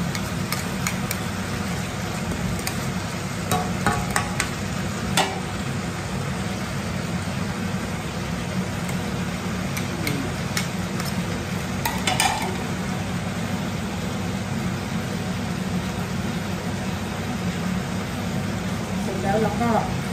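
Sliced beef with holy basil stir-fried in a hot pan, a steady sizzle with scraping stirs and occasional utensil clinks running throughout at close range.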